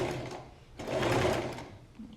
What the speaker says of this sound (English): now we're going to sew the sides together